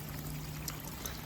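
Pumped water pours steadily over the weir of a backyard swim pond being built into a waterfall, a soft continuous splashing and trickle close by with a low pump hum beneath.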